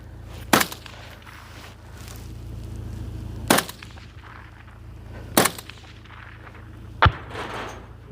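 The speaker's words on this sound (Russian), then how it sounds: "А, это РПК. Ручной пулемет Ковальского" Four single shots from an RPK light machine gun at a firing range, each a sharp loud crack spaced a couple of seconds apart over a steady low background rumble, with no talking.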